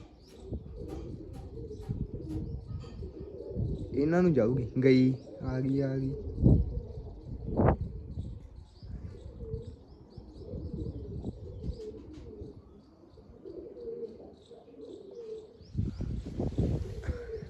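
Pigeons coo in a backyard flock with small chirps and a brief wing flap, the calls rising clearly around the middle, while people chat in Punjabi throughout.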